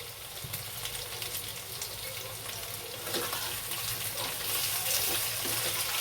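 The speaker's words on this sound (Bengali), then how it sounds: "পেঁয়াজ আর আলুটা একসাথে ভেজে নিচ্ছি একটু কালো জিরে ফোড়ন দিয়ে।" Onion and potato fry over high heat in oil tempered with black cumin, giving a steady, moderately loud sizzle that grows slightly stronger toward the end.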